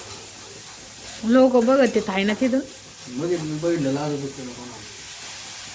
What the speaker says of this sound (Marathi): आवाज येतो ना तडक्याचा